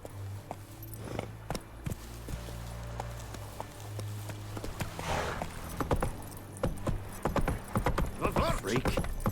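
Geralt's horse Roach trotting in The Witcher 3, a steady run of clip-clop hoofbeats with a faint jingle of tack over a low game ambience, and a voice speaking now and then.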